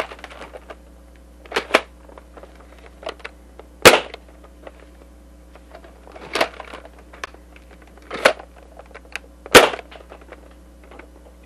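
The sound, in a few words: TOMCAT Dart Zone Max foam dart blaster firing darts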